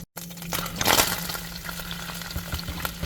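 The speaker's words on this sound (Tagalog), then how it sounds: "Kapag mainit na yung mantika, lagay na natin yung sibuyas at bawang." Chopped onion and garlic dropped into hot olive oil in a pan for sardine ginisa, a sudden rush of sizzling that settles into a steady close crackle.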